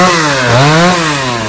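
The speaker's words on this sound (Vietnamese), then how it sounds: "đang cưa bớt mấy phần nhánh nhỏ nhỏ phía bên dưới cho chút nữa dễ kéo nhánh đi ra phía ngoài" Chainsaw cutting small lower branches off a Sao tree in a cramped spot, a steady loud engine drone that rises and falls in pitch as the chain bites, continuous and close.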